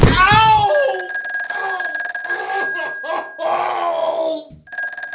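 Telephone bell ringing in an old radio comedy, a loud ring at the start followed by shrill ringing tones under and between voices talking.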